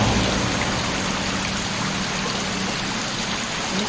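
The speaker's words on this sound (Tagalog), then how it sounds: "Merong maliit na waterfalls." Small waterfalls in Rial, Quezon give a steady, close rush of flowing water that holds an even level from start to finish, with no voices over it.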